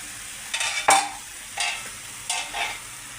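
Egg and tomato curry being stirred and fried in a pan over low heat, with three separate bursts of scraping and sizzling spaced about a second apart, close and moderately loud, with no voices.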